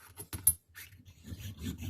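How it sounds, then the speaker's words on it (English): Rough stone filing the sides of a Pietta 1861 Navy revolver hammer, a few quiet, close rasping strokes in short bursts followed by softer continuous rubbing. "the rough stone is going to be used on the sides of the hammer"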